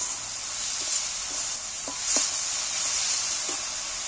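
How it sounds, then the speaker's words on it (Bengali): Spice ingredients for a soybean dish fry in a pan with a faint, steady sizzling hiss, broken by a few soft clinks of a spoon. "যে উপকরণগুলো দিন সেগুলো একটু ভেজে নিচ্ছি"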